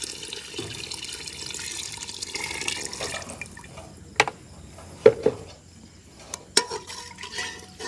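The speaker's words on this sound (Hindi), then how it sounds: "तो अब मैं डालने लगी हूँ मसाले में पानी" Water pours and splashes into a pot of masala for beef yakhni salan, a close liquid rush that thins out into occasional drips and clinks of a spoon.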